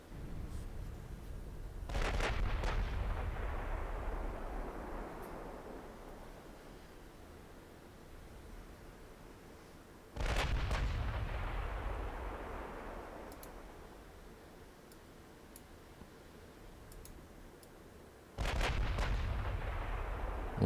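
Naval guns in the warship game Ultimate Admiral Dreadnoughts fire three heavy salvos, each a deep booming blast that rolls away over a long rumbling tail, spaced about eight seconds apart against a low, steady background.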